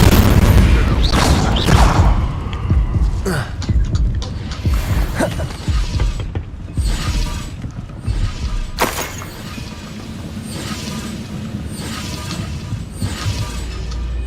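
Incendio fire spell cast repeatedly in Hogwarts Legacy, loud crackling bursts and booming blasts layered with combat effects, strongest near the start and continuing as a steady roar of spell impacts.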